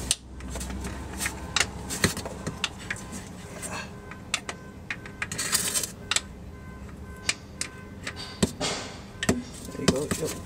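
A torque wrench ratchets while loosening the starter bolt on a Mazda RX8, a series of sharp, close clicks in irregular bursts amid garage clatter, with people talking now and then.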